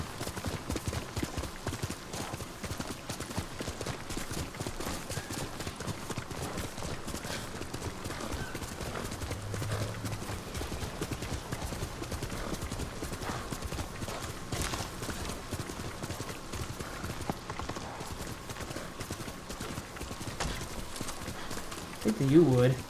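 Horse hooves clip-clop steadily through woods in Ghost of Tsushima, a continuous rhythmic patter mixed with game music and ambience while someone talks over it.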